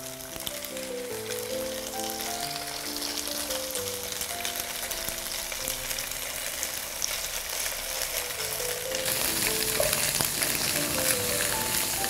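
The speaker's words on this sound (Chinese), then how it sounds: "把这个有肉的这面呢，我们先向下小火慢慢煎一煎" Tofu stuffed with minced meat fries meat-side down in a little oil in a flat frying pan over low heat, a steady soft sizzle and hiss under background music, brightening slightly toward the end.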